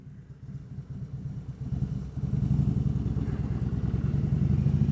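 Harley-Davidson Road King Classic motorcycle on a ride, its engine rumbling with a low, pulsing beat that swells louder as the bike accelerates and then holds steady, with no talking.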